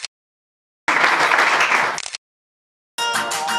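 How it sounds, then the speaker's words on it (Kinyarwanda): Audience applause at a farewell gathering for a departing group, arriving as two dense bursts of clapping: a longer one lasting over a second, then a brief pause and a second round starting up. "reka twongere tubakomere amashyi"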